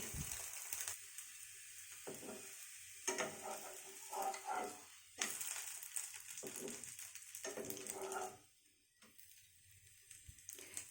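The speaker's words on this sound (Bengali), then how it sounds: "এরকম করে আমি সব ভেজে নিচ্ছি।" Milk butter roti batter fries in a pan with a soft sizzle, broken by stirring and scraping sounds and a few louder bursts, then quieter toward the end.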